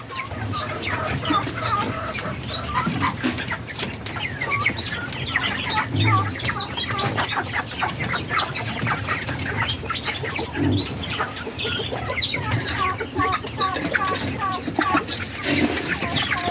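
Broiler chickens on a farm clucking and calling steadily after feeding, with wing flaps and scattered chirps from many birds close by, a busy continuous flock din.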